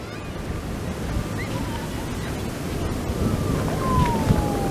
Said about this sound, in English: Here is the mighty Pacific, friends.